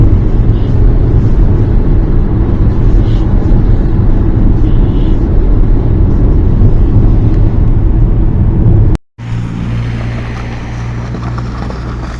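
A Jeep Cherokee KL on a test drive gives a steady, loud low engine and road rumble inside the cabin, broken by a sharp dropout near the end before the drone resumes.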